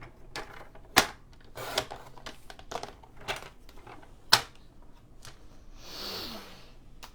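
Scissors snipping through patterned craft paper, a few crisp close cuts spaced irregularly with a soft rustle of paper near the end, quiet room without speech.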